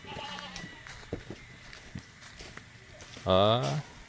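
Close by, a goat lets out a loud, wavering bleat near the end, after faint rustling and footsteps with quiet talk in the background.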